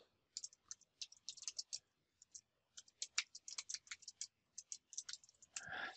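Quiet, crisp mouse clicks at a computer, scattered in irregular clusters of quick taps with short gaps between them, ending in a brief soft rustle.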